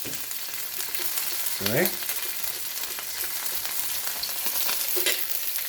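Sauces being mixed together in a pan for spicy red shrimp, a soft steady sizzle and frying hiss with a brief scrape of stirring, quiet, with a short spoken word.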